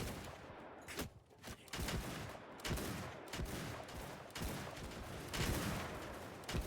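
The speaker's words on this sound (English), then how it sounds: "I want to give my gun troops a lot longer to fire at these guys" Musket volleys from gun troops in a Mount & Blade 2 Bannerlord battle, with repeated sharp cracks and ragged bursts of firing amid a steady din of combat.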